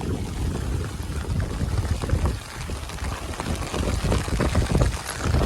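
Floodwater surges in a strong current through a village in Sorath after about 12 inches of heavy rain, a loud, steady, broadband rush that churns on without a break.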